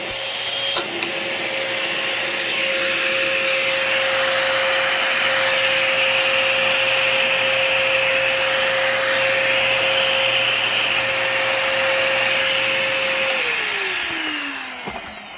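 A vacuum cleaner with a filter that often won't seat properly runs steadily and loudly for about thirteen seconds with a constant motor whine, then powers down, the pitch sliding lower as it spins out. No one speaks.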